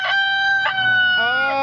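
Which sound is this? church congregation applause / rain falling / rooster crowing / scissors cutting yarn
rooster crowing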